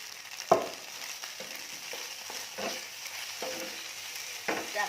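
Vegetarian pork being stir-fried in a pan for Shanghai noodles: a steady soft sizzle, broken by a sharp clack near the start and a series of lighter scrapes and taps as a spatula turns the food, close and quiet, with no voices.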